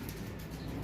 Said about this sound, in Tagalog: Ayan guys, may dumating tayong ibon.